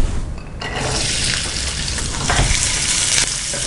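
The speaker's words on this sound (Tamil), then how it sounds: "பூண்டை வந்து நம்ம வதக்கிக்கணும்." Garlic sizzles loudly in hot sesame oil in a kadai, a dense close crackle with scraping stirs and brief surges as the pieces are tossed.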